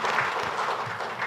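Audience applause at a live public talk, a steady broadband patter of many hands clapping throughout, fairly even in level and moderately loud for the whole short stretch.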